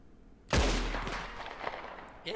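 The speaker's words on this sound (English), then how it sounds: "Are you shooting at me?" A single loud gunshot in Red Dead Redemption cracks sharply and rolls away in a long echoing tail, with no talking over it.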